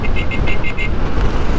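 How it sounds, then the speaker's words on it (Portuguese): A weak, thin motorcycle horn on a dual-sport bike sounds about six short, rapid beeps in a row, close and loud over a steady rumble of engine and road noise. "A buzina dessa moto tá mó murcha"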